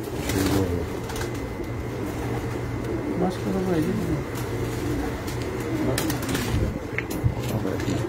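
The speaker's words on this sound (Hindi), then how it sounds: "ये 3 कबूतर हैं जो 3 साल से उड़ रहे हैं" Pigeons coo on a rooftop loft, a soft steady murmur running beneath someone talking close by, with occasional brief chirps mixed in.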